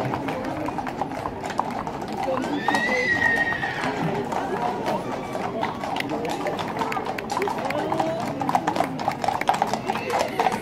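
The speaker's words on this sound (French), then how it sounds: "Les cavaliers chevaux mériens du Sherpa." Mérens horses with riders clip-clop along a street parade in the Couserans, the steady hoof taps near and clear, with a whinny and a voice talking over them.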